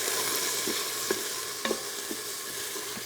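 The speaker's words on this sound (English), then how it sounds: "we're just gonna let this toast in the olive oil here until it glistens and softens" Food toasting in olive oil in an Instant Pot is stirred, a soft steady sizzle broken by several light spoon scrapes and taps against the pot, fairly quiet and close with no talking.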